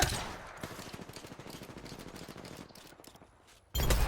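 Rapid automatic gunfire from the video game Apex Legends, a dense string of quick bursts that fades toward the end before a sudden loud burst cuts in, with no talking.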